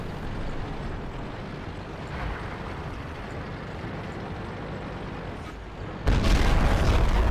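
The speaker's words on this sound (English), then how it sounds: "that T57 heavy is just wasting 3 of his shots trying to hit my turret" Tank cannon shots from a T57 heavy striking the turret of an M103 in the World of Tanks game: steady low rumble of battle, with a louder, brighter blast bursting in near the end.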